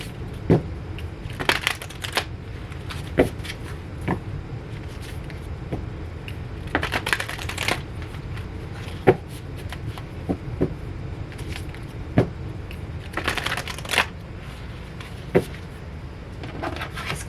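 Oracle cards are shuffled by hand during a tarot reading, giving soft, intermittent riffles, flicks and light taps against a quiet room hum.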